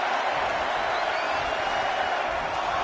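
A video-game wrestling crowd in WWE 2K20 roars in a dense, continuous arena wash, loud and steady without clear individual count beats.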